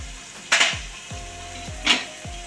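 Masala for an Andhra-style fish curry sizzles in a pan with coriander and mint while being stirred, giving a low continuous frying hiss broken by two sharper scraping strokes, close and with no voices.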